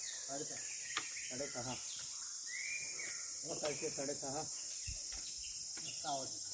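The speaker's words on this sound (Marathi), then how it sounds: "पक्ष्यांचे सुमधुर आवाज." Birds sing at dawn along a mountain trail climbing from the Kundalika valley to Savale Ghat near Tamhini, with scattered chirps and short calls mixed under people talking nearby.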